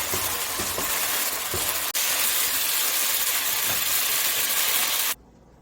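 Beef and broccoli stir-fry hisses loudly in a hot pan as sauce is stirred through, a steady close sizzle with faint scraping taps, cutting off abruptly near the end.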